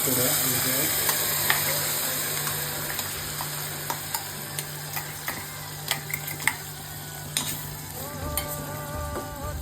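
Sabudana vada deep-frying in hot oil, a steady low sizzle with scattered small pops and a few clinks of a utensil against the pan, moderately close with no talk.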